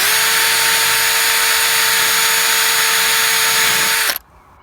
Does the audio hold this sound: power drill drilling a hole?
yes